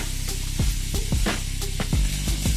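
Pasta sauce cooking down in a pan, a steady sizzle and bubble with repeated scraping stirs of a utensil against the pan, close and moderately loud.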